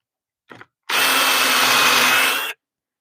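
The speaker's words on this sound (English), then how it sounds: "Let me take it a little deeper. This is a Forstner bit here." A Forstner bit drilling deeper into wood, a short blip of the drill motor followed by about one and a half seconds of loud, steady, close whirring cut that stops abruptly.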